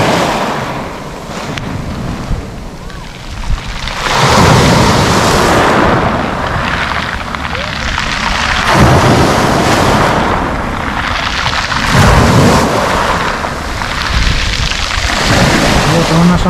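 Sea waves roll onto the shore at Lazarevskoye on a calm day with almost no wind, sounding as loud, close surges of rushing surf that swell and wash back every few seconds.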